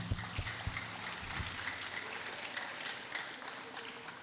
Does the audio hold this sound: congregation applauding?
yes